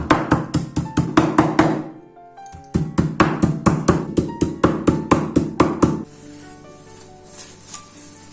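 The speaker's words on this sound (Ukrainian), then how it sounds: "накриваємо харчовою плівкою та відбиваємо молотком з двох сторін" Rapid, steady thuds of a mallet pounding meat covered in plastic wrap, on both sides, loud and close, in two bursts with a brief pause between, then fading to quiet.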